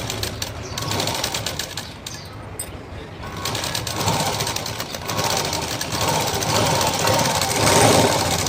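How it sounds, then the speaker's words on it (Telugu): A sewing machine stitches a blouse seam, a rapid, continuous mechanical chatter heard up close throughout, its loudness swelling gently toward the end. "ఒక పాదం మందం ఖర్చుతో కుట్టేసుకుంటూ వెళ్ళండి."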